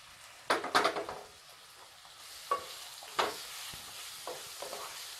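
Big onion sautéing over a low flame with green chillies, mint leaves, coriander powder and tomato, stirred by a spatula: a cluster of close scraping stirs early on, then a softer sizzle broken by occasional single scrapes and knocks.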